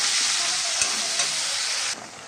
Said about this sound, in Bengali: মশলাটা দিয়ে সুন্দর করে কষিয়ে নেব।